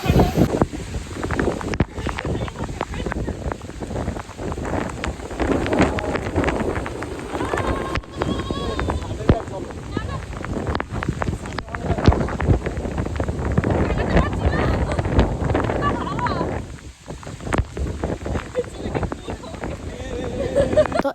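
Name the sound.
strong wind in a storm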